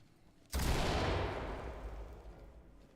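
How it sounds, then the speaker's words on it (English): In the tactical shooter game Ready or Not, a flashbang goes off with a sudden loud blast that rolls into a dense burst of gunfire and a long decaying roar, with no talk over it. "Toss a flashbang."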